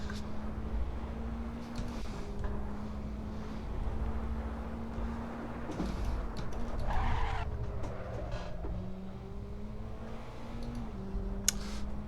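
Race car tyres skidding under late braking in a racing video game, likely a Praga at Istanbul Park, with a steady engine drone and a sustained scrubbing squeal across the whole stretch.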